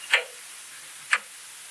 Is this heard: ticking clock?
yes